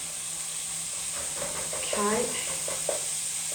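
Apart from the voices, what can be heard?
lean keema mince frying with spices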